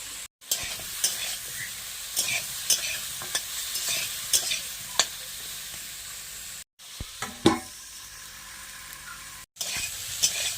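Potato and eggplant pieces fry in oil in a pan while being stirred, a close, continuous sizzle broken by scraping stirs and brief gaps, with no voices.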